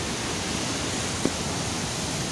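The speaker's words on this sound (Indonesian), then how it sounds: "Jadi enak banget sambil melihat deburan ombak besar di sini ya." Large ocean waves on a hidden beach at Pantai Solokan in Pasiripis, Surade, produce a continuous broad roar of surf that stays level and unbroken, with no single distinct crash standing out.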